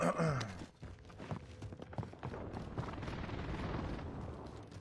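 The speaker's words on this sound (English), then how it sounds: "Enemy precision airstrike." Low rumbling blasts of a precision airstrike in Apex Legends, starting with a loud boom, then a sustained, muffled roll of explosions and debris that stays moderately loud to the end.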